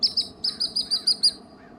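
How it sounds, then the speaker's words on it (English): Bird calls ring out at a Lake Cachuma campground in Southern California in the morning, a quick series of about eight short, bright chirps in an even rhythm, close and clear against a quiet background. "The birds woke me up early next morning."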